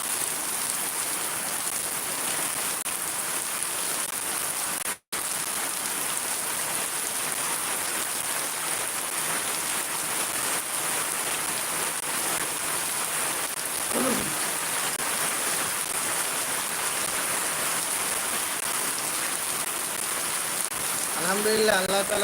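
Heavy rain pours steadily in Shariatpur, a dense, unbroken hiss of drops on surfaces that holds at the same level throughout, with a brief cut near the start and a faint voice near the end.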